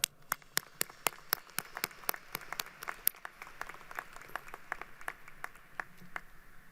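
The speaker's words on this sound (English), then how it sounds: "please join me in a round of applause for Dr. Robert Murphy." Audience applause at a university commencement ceremony, sparse and faint, with separate sharp claps in an uneven rhythm that thin out over several seconds.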